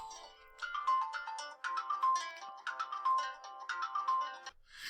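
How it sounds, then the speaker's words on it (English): A phone ringtone plays in quick melodic bursts, repeating steadily for several seconds, fairly quiet and alone with no talk over it. "Please forgive that phone call."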